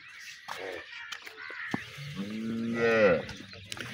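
A Holstein Friesian cross cow in Punjab, Pakistan lets out a long, deep moo close by, with crow caws and a few sharp knocks scattered around it.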